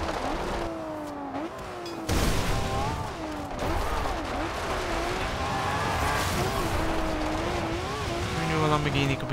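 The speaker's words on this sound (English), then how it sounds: "Lamborghini could be so good off-road." A 2010 Lamborghini Murciélago LP 670-4 SV driven off-road in Forza Horizon, its engine droning and rising and falling in pitch through shifts and jumps, loud and steady throughout, with a thump near the start.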